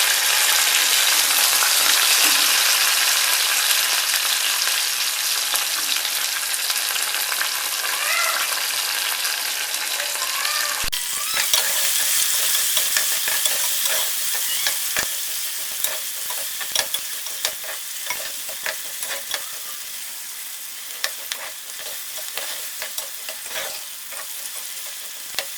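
Onions and curry leaves frying in hot oil for a Telugu methi tomato curry, a steady close sizzle that shifts after a stir into crackling spatters and small clicks, with no talking.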